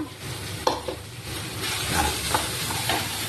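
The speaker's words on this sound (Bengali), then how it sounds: "দু থেকে তিন মিনিট তিন মিনিট এইভাবেই নেড়ে নেবো" Masala is stirred and fried in a pan for a Bengali morola fish jhal. A loud, continuous close sizzle is punctuated by scraping stirring strokes, with no talking.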